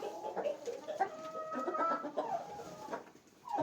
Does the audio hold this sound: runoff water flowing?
no